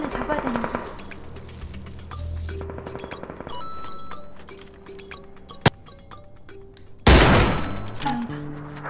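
Battle royale game gunfire: scattered close shots and bursts, a sharp single crack midway, then a loud heavy blast near the end, with clinking game effects between.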